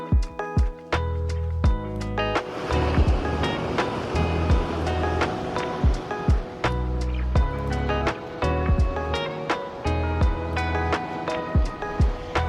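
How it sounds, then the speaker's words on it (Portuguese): Sea waves wash steadily onto a beach in Turkey at sunset, a continuous loud surf with repeated crashing splashes and no voices. "Sabe bem ouvir o som do mar."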